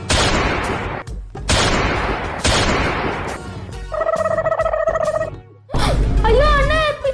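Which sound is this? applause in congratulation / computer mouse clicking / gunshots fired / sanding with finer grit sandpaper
gunshots fired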